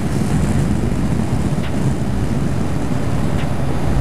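Steady road roar and strong wind rush from a 2021 BMW R1250 GS HP Adventure being ridden, the engine's low hum held constant under loud microphone buffeting for several seconds, no voices.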